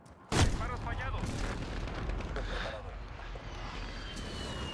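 Air strike in Call of Duty: Modern Warfare: a sudden heavy blast followed by a long rumbling roar and distant booms, with voices talking over it.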